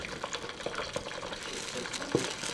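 Pork pata deep-fries in hot oil, a continuous crackling, bubbling sizzle with occasional sharper pops, close and moderately quiet.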